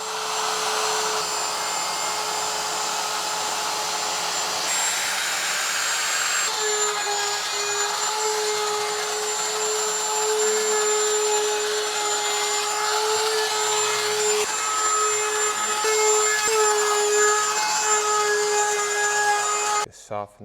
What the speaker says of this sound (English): All I need to do now is put a 1/4 inch round over on the top and the bottom.